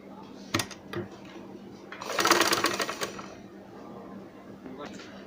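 Sewing machine stitching the folded edge of a kameez neck gives a burst of rapid mechanical chatter lasting about a second, preceded by a couple of clicks, with someone talking over it.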